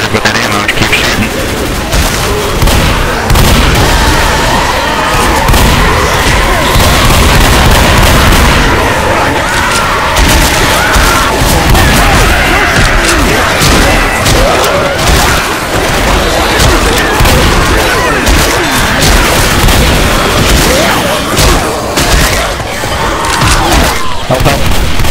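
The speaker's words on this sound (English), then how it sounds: "Don't be conservative with that ammo, keep shooting." Gunfire and booming explosions from the Left 4 Dead video game rattle on continuously and loudly, dense overlapping shots with crowd-like zombie noise, while players talk over the battle.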